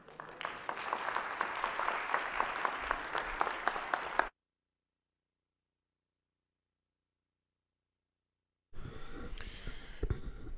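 Audience applause following a medical presentation on diet and health, dense steady clapping from a large crowd, breaking off midway and resuming after a stretch of silence.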